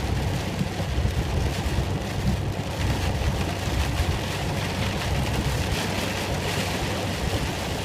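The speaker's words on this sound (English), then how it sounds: "It's been raining like this all night." Heavy rain falls steadily and continuously, a dense close hiss that persists without a break and with no voices present, the sort of persistent downpour that lasts all night.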